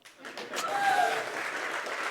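Audience applause fills a presentation hall at a demo day event after a magic trick, a steady wash of clapping that swells and holds for a couple of seconds.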